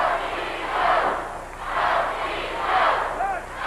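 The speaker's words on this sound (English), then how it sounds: "You hear the crowd here at Barton Coliseum in Little Rock, Arkansas." Wrestling crowd at Barton Coliseum in Little Rock, Arkansas, roaring and chanting in three rhythmic swells, loud and dense, with a commentator's voice faint underneath.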